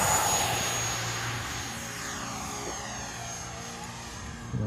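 A Freewing 90mm F22 Raptor RC jet with an 8S setup takes off, its ducted fan holding a loud, steady whine that eases off slightly as the model climbs away, with no talk over it.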